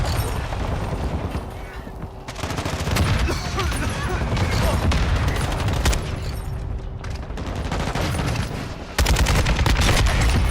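Shotgun and other gunfire from Call of Duty at a League Major 4 qualifier match, dense and loud, with repeated blasts and booms over a constant game din and crowd noise, with casters talking throughout.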